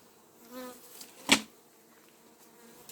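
Honeybees buzz steadily in an opened hive being readied for winter, a close, continuous drone with a sharp knock of the hive box partway through.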